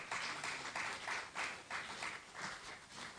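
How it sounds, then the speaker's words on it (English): Applause from an audience at a business meeting, a dense, steady wash of many hands clapping in a large room, fairly distant with no voices on top. "Please, let's clap for her."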